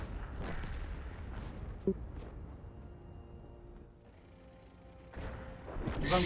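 High-explosive tank shells fire in a tank video game battle: a low rumble of distant gunfire, one sharp thump early on, then a louder explosive blast right at the end.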